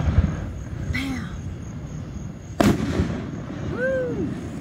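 Fourth of July fireworks bursting over Lake Secession, a few distant booms with whistling rising streaks heard across open water, one sharp bang standing out.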